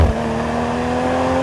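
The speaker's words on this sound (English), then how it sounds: "the engine in this car sounds absolutely sensational" Steady hum of a 2020 Toyota Supra engine running at a held, fairly constant pitch, close and even in loudness for the whole stretch, with no voices.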